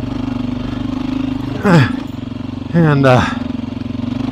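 Beta 500 four-stroke dirt bike engine idling with a steady low thump, then blipped twice in short revving bursts that rise and fall, close and loud, with a brief spoken word at the start.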